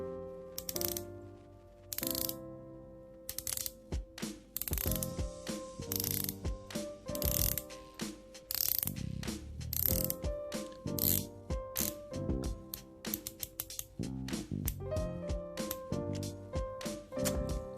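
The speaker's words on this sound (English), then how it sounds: "Now let's take a moment to appreciate the bezel action on both watches. First, we'll do the Aquascaphe." The rotating bezel of a Baltic Aquascaphe dive watch, turned in repeated runs of crisp, close ratcheting clicks with short pauses between spins, loud and clear with no talking.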